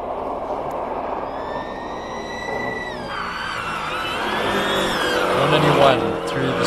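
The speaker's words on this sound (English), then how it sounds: "Yash Rampasad in the Porsche." A Porsche race car climbs the Simola hillclimb course, its engine whining through rising gear changes at a distance beneath steady commentator speech.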